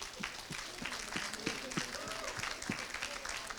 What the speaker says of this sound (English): Please give a warm round of applause for Angie Seth